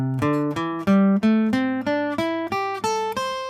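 Minor pentatonic scale picked on an acoustic guitar for a blues lesson, about ten single notes played one after another at an even pace, climbing then descending, each ringing briefly and clearly with no talk over them.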